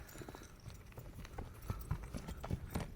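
Hooves of a large, tall horse being ridden clip-clop at a steady walking rhythm, fairly quiet and close, over faint outdoor background noise.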